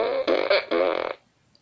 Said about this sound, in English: That is a one and only fart machine.